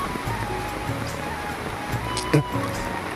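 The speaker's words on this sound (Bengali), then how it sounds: "দেখতে পাচ্ছ কত বছর বৃষ্টি চলছে এদিকে।" Steady rain falls over a village, a continuous even hiss with a faint voice now and then beneath it.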